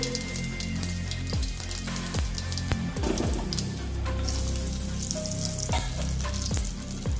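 Mustard seeds and asafoetida tempering in two big spoons of hot oil in a pan for stuffed chillies crackle and sizzle densely and close up, with scattered popping throughout.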